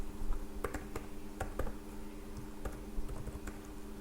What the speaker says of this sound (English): So I need to type the query over here like this